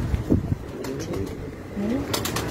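Pigeons on a rooftop loft giving soft low cooing calls, a few close throaty coos with brief wing and movement sounds in between.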